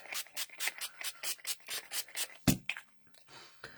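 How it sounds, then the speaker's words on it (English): Rubber stamps scrubbed on a stamp cleaner scrub pad, a rhythmic back-and-forth rubbing at a steady pace, close up, followed by a sharp knock and a few softer scuffs. "The Stampin' Mist and this cleaner, the scrub here, are really good to clean all of your stamps."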